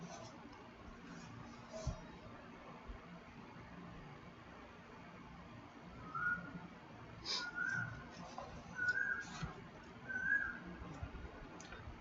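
Birds call faintly in the evening, a few short, thin chirps scattered over several seconds above a steady background hiss, with no talking.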